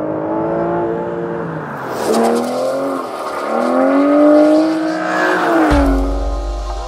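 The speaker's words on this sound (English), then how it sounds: "That V12 is absolutely epic." A powerful V12 sports car engine revs hard, pitch sweeping up and down in repeated surges, loud and close, ending with a deep low rumble.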